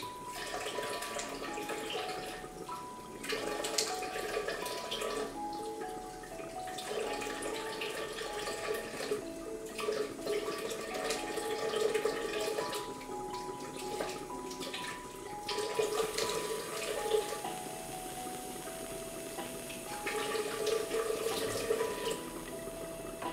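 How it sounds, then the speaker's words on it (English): Tap water runs steadily into a kitchen sink while dishes or utensils are rinsed beneath it, a continuous close splashing stream with small clinks over soft background music, and no one speaking. "I'm gonna give these a rinse."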